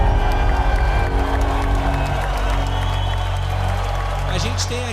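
Church audience applauding and cheering loudly for Jesus at a Christian talk show gathering, a sustained dense wash of clapping with crowd noise and whoops throughout, fading slightly toward the end.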